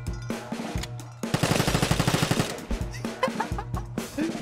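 Rapid automatic gunfire from the online shooter game Vigor, fired through a floor, with dense bursts of shots in a fast rhythm after a brief opening pause, close and loud.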